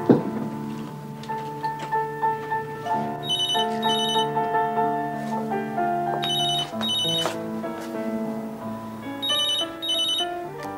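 A mobile phone rings with a repeating melodic ringtone, bright chiming tones recurring in bursts over about ten seconds, clear and alone with no speech.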